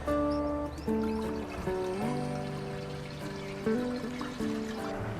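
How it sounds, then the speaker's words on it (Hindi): Water poured into a clay pot being set up as a home drip irrigation reservoir, a steady trickling pour with shifting gurgling tones close by, no talking. "दोस्तों अब इस घड़े में भी हम पानी भर लेंगे।"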